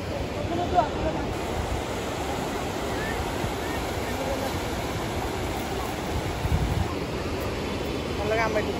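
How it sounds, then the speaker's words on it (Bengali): Sea waves at Cox's Bazar beach roll in as a continuous broad wash of surf, with wind buffeting the microphone and a few louder swells. "এই সমুদ্র দেখো।"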